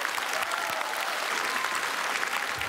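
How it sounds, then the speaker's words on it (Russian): A Comedy Club studio audience applauds steadily, a dense, even wash of clapping with no break across the whole stretch. "под ваши аплодисменты"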